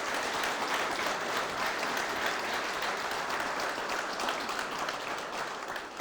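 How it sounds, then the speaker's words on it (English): A fireside chat audience applauds steadily, dense clapping from many hands at a fairly close distance, holding an even level throughout before easing slightly at the very end. "I think a round of applause is more than..."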